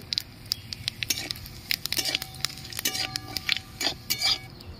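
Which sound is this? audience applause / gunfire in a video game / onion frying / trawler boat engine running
onion frying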